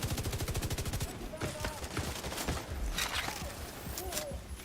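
Gunfire in the video game The Division 2, opening with a steady fast machine-gun rattle and then breaking into irregular single shots and short bursts, all fairly quiet and distant.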